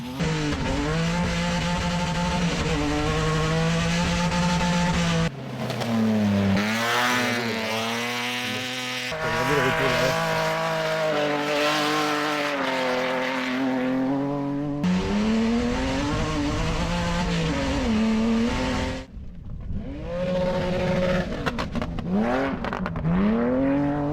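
A BMW fun car drifts hard around a dirt circuit at Ouaco, engine revving high with rising and falling pitch across several slides, loud and close, with no talk.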